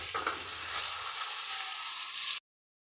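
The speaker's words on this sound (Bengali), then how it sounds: "আলুটা আমার ভাজা হয়ে গেছে" Boiled potatoes frying in a pan with turmeric and salt, a loud steady sizzle close up that cuts off abruptly near the end.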